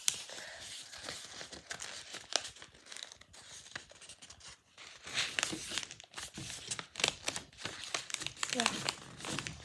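Sheets of paper crinkle and crease up close as they are folded, steady rustling and crumpling with brief tearing-like swishes, while a person talks throughout.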